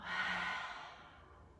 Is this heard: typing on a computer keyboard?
no